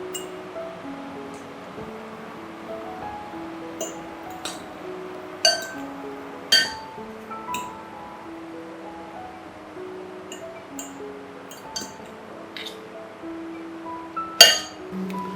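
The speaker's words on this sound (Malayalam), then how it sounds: "ഇനി നമുക്ക് ഇത് നന്നായിട്ട് മിക്സ് ചെയ്തെടുക്കാം." Chicken sausage salad being stirred in a glass bowl, with scattered light clinks of a utensil against the glass over quiet background music, a few sharper taps standing out.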